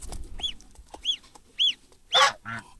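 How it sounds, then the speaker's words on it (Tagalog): Farm fowl give a series of short, close clucks and squawks at uneven intervals, ending in a louder, harsher call, with quiet rustling between them. "Ito yung dalawa mga manok."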